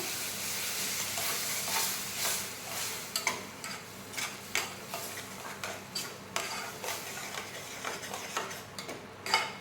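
Ground tomatoes sautéing in oil for a green peas gravy, a steady low sizzle with scattered clinks and stirring scrapes of a spoon against the pan, close and continuous with no voices.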